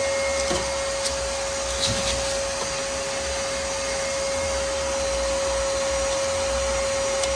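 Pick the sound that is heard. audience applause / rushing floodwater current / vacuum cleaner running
vacuum cleaner running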